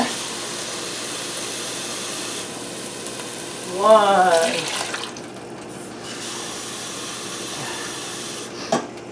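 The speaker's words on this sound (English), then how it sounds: "I'm going to need 10 cups of water because I'm doubling the recipe." Water pours into a soup pot for a Japanese thick pork soup, a steady close hiss with a louder burbling surge partway through. A voice briefly counts.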